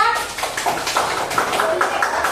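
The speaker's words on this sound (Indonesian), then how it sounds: "Kasih tepuk tangan untuk kelompok 3." A class audience at a teacher training session applauds group 3, with scattered hand claps forming a steady broadband patter mixed with voices talking throughout.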